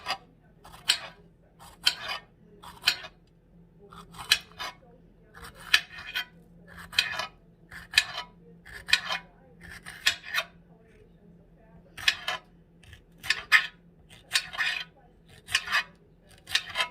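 A knife chops a whole pepper into little pieces, seeds and all, making a steady run of sharp, close taps on a cutting board, with brief pauses between bursts.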